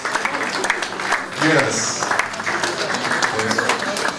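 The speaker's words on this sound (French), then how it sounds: "On continue à applaudir, s'il vous plaît." Audience applause at a political rally in Ottawa for Felix Tshisekedi, dense clapping and cheering running throughout, with a voice speaking over it near the start and a short high whistle-like tone mid-way.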